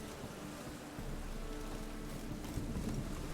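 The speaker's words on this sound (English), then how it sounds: "Rain again." Rain falls steadily in The Witcher 3 video game, a soft, continuous wash of drops with a low rumble of thunder underneath, faint and even throughout with no voices.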